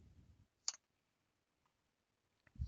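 Two crisp, isolated mouse clicks sound while using a software interface, close and quiet, separated by near silence.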